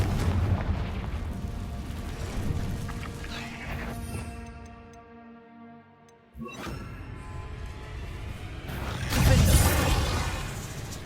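Confringo fire spell explosions in the Hogwarts Legacy video game, loud rumbling blasts with a brief quieter ringing lull midway, then a heavy burst near the end.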